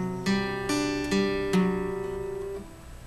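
Strummed guitar chord from a song, several strums at an even pace, each ringing out and fading, close and clear with no talking.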